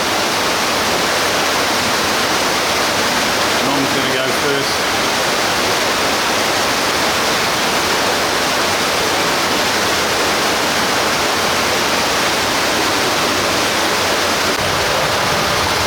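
Steady broadband rush of a small waterfall fills the scene, constant and fairly loud, with a brief spoken remark near the start.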